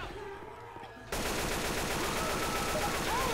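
Rapid automatic gunfire from an AK-47 in the video game Left 4 Dead 2 erupts suddenly after a quieter stretch of game sound and continues loud and dense to the end.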